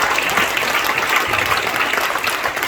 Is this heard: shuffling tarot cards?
no